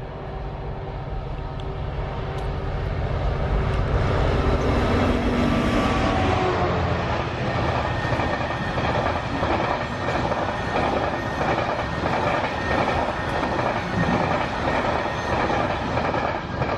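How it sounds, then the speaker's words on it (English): A freight train passes on a rail line near a country crossing, a loud continuous rumble with steady clickety-clack of wheels over rail joints, swelling as it nears and holding close and heavy throughout. "Got one freight on the way over, one freight as soon as I got here, and another one coming up the bank."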